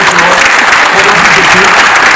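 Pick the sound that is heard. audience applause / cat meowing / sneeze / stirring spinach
audience applause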